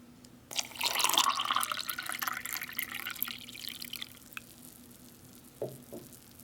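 Eight ounces of water pour into a glass of MRE iced tea drink mix from a 1999 ham slice ration. A loud, splashy pour lasts about three seconds, then tapers into a few soft drips.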